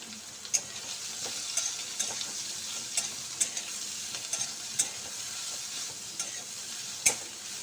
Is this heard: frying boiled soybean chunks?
yes